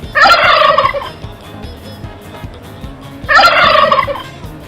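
A turkey on a farm gobbles in two loud, close rattling bursts separated by a quiet pause, with no voices present.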